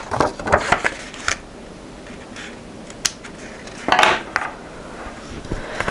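Scissors snip the edges of printed vellum nearby: a handful of crisp, papery cuts in short bursts separated by quiet pauses, with no speech.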